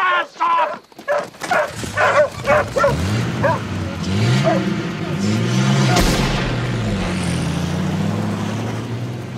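Several dogs bark in quick bursts at the start, then a mix of yips and whimpers continues under a steady rumbling vehicle or engine noise in the later part.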